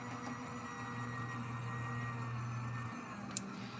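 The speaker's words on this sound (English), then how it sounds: "I'll run that through. I have a Gemini, so I apologize for the loud noise that you're about to hear." A Gemini die cutting machine runs a flocked sheet through, giving a steady mechanical hum and drone with a brief click near the end, moderately loud and without talk.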